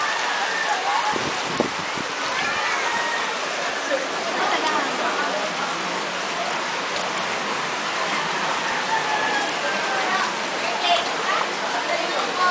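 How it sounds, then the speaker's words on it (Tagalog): Heavy rain pours steadily during a flood, a constant hiss of water close by, with a few voices talking faintly underneath. "Taas ng ulan, no?"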